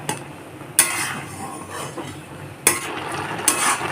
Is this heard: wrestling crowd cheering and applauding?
no